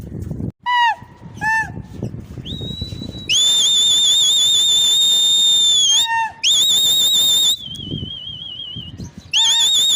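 A person whistles loudly and repeatedly to fly fighter Gola pigeons in Karachi, sharp sustained whistles and rising warbling calls, close and piercing, alternating with softer outdoor ambience.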